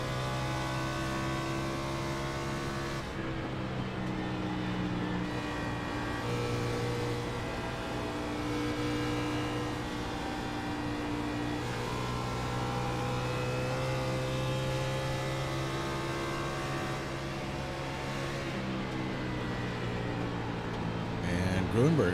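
A kart on the Darlington track drones steadily, its engine note rising and falling as it laps. A commentator talks over the sound throughout.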